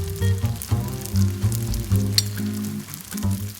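Shrimp pasta sauce with lemon zest and parsley sizzles in a pan as it is tossed, a close, crackling fry with uneven bursts from the stirring.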